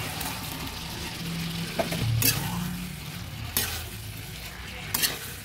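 Fried koyash tipped into a pan of spices that are already frying, with a low steady sizzle and a few sharp clinks of the spoon as the mixture is stirred. It is fairly quiet and close, with no talking.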